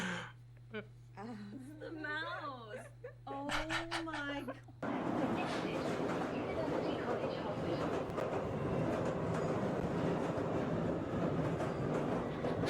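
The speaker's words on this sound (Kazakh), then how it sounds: "Метро ғой да мынау?" A metro train runs with a steady, loud rumble and rattle that sets in abruptly after several seconds of voices, holding on continuously to the end.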